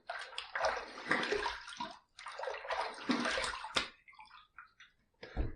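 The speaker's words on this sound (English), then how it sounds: "I am throwing some water up there" Water is tossed by hand over a pottery bowl being rinsed, giving sloshing, splashing bursts in two main pours followed by scattered drips and trickles, close and fairly loud with no talking.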